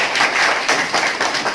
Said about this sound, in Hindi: इनके लिए ताली बजा दीजिए एक बार।